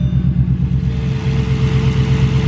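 An Audi S4 Quattro engine runs at a steady idle after starting, a loud, close, continuous low rumble with an even throb and no voices.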